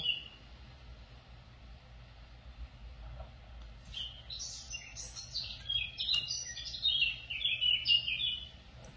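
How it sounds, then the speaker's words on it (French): A bird sings a run of short, bright chirps and trills that begin midway and grow busier toward the end, fairly faint over a low steady background hum, with no talking. "il y a un oiseau qui s'est mis à chanter pendant votre texte"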